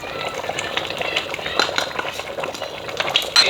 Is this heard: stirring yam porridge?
yes